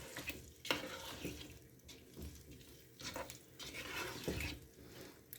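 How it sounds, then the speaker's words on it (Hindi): Potatoes fry in a pan for leftover-curry chicken pulao, giving a quiet, uneven sizzle broken by several soft stirring and scraping knocks. "आलू इसको हम फ्राई कर लेंगे।"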